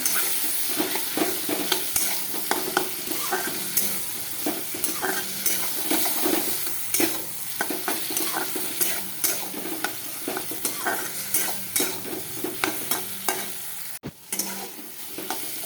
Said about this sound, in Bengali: দেখো, এটা ভাজা ভাজা করতে করতে তেলটা যখন একটুখানি যে খুলে আসবে, তখন আমি জলটা দেবো